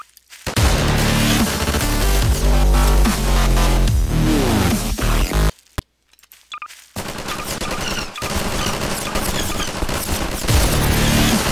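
Rapid, loud machine-gun fire from weapons in Garry's Mod rattles in long close bursts, cuts out briefly midway, then resumes with steady repeated shots, and no one speaks.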